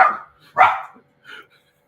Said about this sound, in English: They hear the other dog barking in the room.